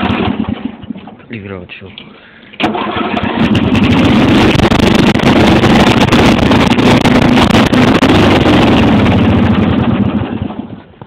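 A homemade lawn tractor's engine, plowing snow, runs loud and steady close by with wind buffeting, then sputters and dies as it runs out of gas; someone speaks briefly over the noise.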